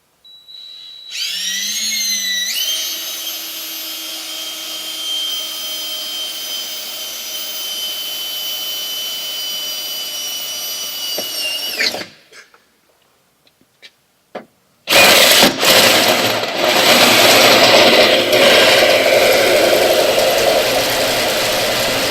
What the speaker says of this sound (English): We're going to drill a pilot hole before we use our 3/4 inch hole saw.